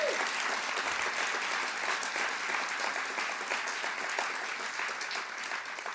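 Audience at a heritage month launch event giving a dense, sustained round of applause for a drumming group, loud and even throughout with crowd noise mixed in.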